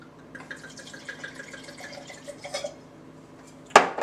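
Italian wine swirled and sloshed inside a wine glass during a rinse, soft close liquid trickling and light glassy clinks, ending with a sharper knock of the glass.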